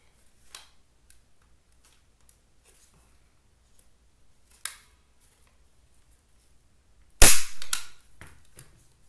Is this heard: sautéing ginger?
no